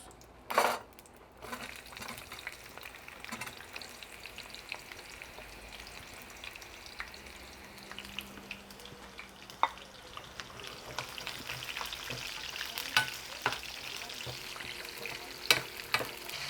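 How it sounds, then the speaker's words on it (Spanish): Tomato, onion, serrano chile and garlic fry in a pan with a steady, soft sizzle, while occasional clinks and scrapes of stirring rise over it. "Ahorita voy a dorar un jitomate, cebolla, un chile serrano, un tomate y los ajos."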